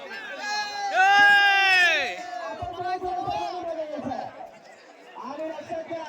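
A crowd of spectators at a muddy bull race in Devrukh, Kokan, chattering and shouting, with a loud surge of yelling near the start that settles into a steady hubbub of voices.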